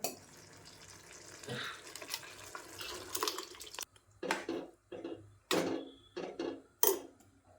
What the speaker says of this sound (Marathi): आता हवं तेवढं आपल्याला पाणी ओतून असं वाढवून घ्यायचं